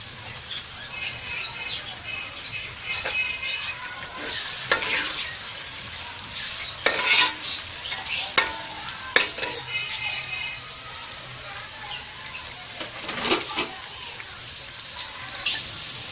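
Onions and masala lightly browning in a pan for dal, giving a soft continuous sizzle with frequent stirring scrapes and utensil clinks, close by, with brief voices now and then.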